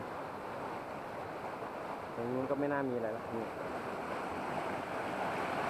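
Mountain water flowing down a waterfall, a steady broad rushing at moderate distance under someone talking briefly.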